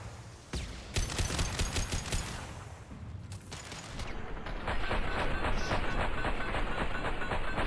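Rapid bursts of gunfire in the Mass Effect 2 video game, Legendary Edition, with a sharp shot near the start and then dense, continuous automatic fire and combat clatter that grows louder in the second half.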